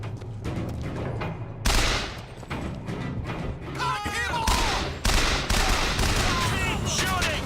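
Rapid bursts of gunfire from the video game Bioshock Infinite, loud and dense with sharp repeated shots and booms throughout, with raised voices shouting over the firing.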